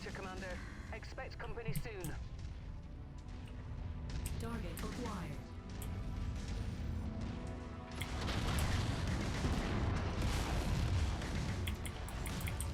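Mech weapons fire in the video game Mechwarrior 5: dense rumbling booms and crashing impacts keep going throughout, swelling louder in the second half, with a voice talking over the combat.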